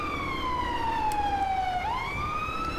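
A London ambulance siren in the video game GTA 5 wails loudly and steadily nearby, its pitch sliding down then sweeping back up, with no talking.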